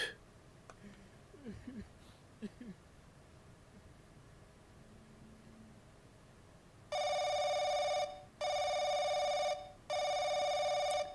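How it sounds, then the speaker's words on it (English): In a quiet apartment at night, faint rustling gives way to a telephone ringing loudly in three long, evenly spaced electronic bursts. "Ring, ring, David."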